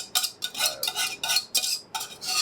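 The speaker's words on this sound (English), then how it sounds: "You just keep stirring." A utensil scrapes and clinks around a pot of food in quick, even strokes, about seven bright scraping passes in under three seconds, close and clear, with no voices.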